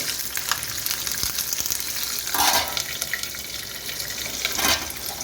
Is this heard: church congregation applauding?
no